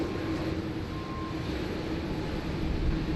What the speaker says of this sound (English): So that is the Airbus A380 service to Los Angeles